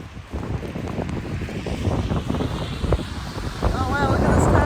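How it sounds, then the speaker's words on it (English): Strong wind buffets the microphone in a snowstorm, a loud, steady rushing roar that builds slightly toward the end, with brief talk underneath. "it is so freaking windy right in my face"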